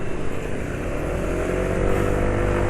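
Carbureted Honda motorcycle engine idling steadily nearby, a continuous low rumble with a faint mechanical clatter and no talk.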